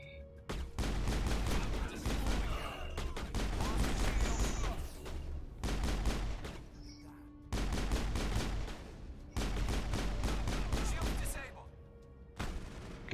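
Assault rifle fire in the video game Mass Effect comes in long, loud, sustained bursts of rapid shots, broken by short pauses and single thuds between volleys.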